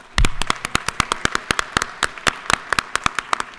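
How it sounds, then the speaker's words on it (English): A small group in a state legislative chamber claps in distinct, sharp, separate claps that start with a loud burst and then continue at a steady, sparse rhythm. "if we could still give them a round of applause so they can hear it in the recording"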